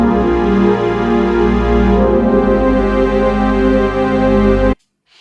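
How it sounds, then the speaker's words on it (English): A thick synthesizer pad holds a dense, sustained chord at a steady, loud level for several seconds, then cuts off abruptly into near silence. "So this synth pad sounds like this."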